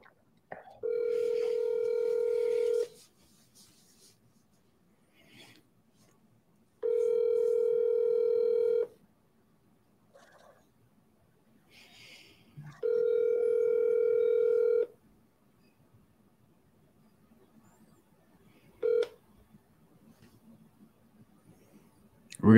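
A telephone ringback tone sounds in three evenly spaced, clear bursts, each about two seconds long, with quiet gaps between them, while a call is placed to a seller.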